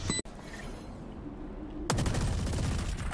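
Rapid automatic gunfire in a Valorant match: a brief burst at the start, then a low rumbling lull, then a loud, dense stream of fast repeated shots that runs to the end with no talking.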